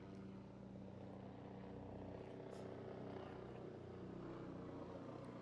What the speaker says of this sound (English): My private helicopter is early today.